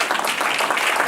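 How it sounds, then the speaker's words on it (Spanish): Church congregation applauding during a service, a steady dense patter of many hands filling the short moment without pause. "Denle un aplauso, Señor, si puede,"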